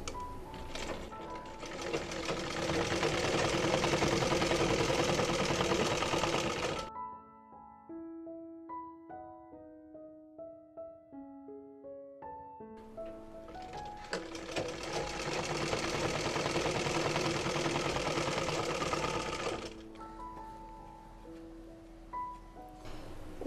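A sewing machine stitches the side seam of ladies' pants in two long, steady runs, with a gap in between where only soft background music plays.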